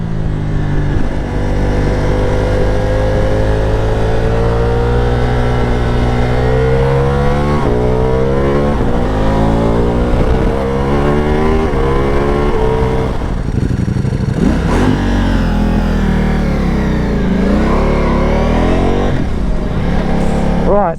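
A Ducati Multistrada V4 Pikes Peak with an Akrapovic exhaust and dry clutch idles and revs up close, a loud, deep engine note rising and falling through repeated blips, with faint clatter.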